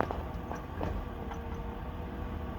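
Failing flex plate on a 2007 Ford Crown Victoria Police Interceptor with a warmed-up engine: faint metallic ticks and clicks recur irregularly over a low, steady engine rumble, heard from nearby.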